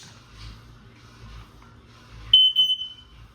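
A household smoke alarm under test gives a sharp, loud high-pitched beep followed by a couple of shorter chirps after a quiet stretch of faint room noise.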